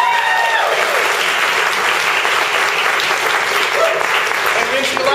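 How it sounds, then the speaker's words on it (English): Sustained applause and cheering from a theatre crowd for performers at a season announcement, thick continuous clapping with a few shouts and whoops scattered over it. "they each get their own applause"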